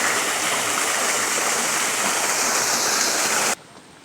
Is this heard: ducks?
no